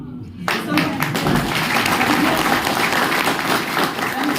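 An audience claps together inside a meeting hall, a dense, steady wash of many hands that starts abruptly and carries on at an even, fairly loud level.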